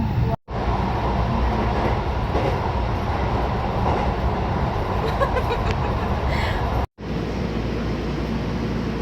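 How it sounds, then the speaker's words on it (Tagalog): A train rolls past at close range in Japan, a loud steady rumble with rail clatter that runs nearly the whole time, broken by two abrupt cuts. "Parang dadaanan lang ng train."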